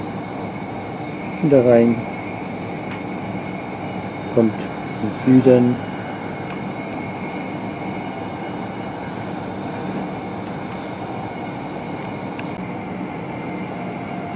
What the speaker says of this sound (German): weil der Zug fährt nach Osten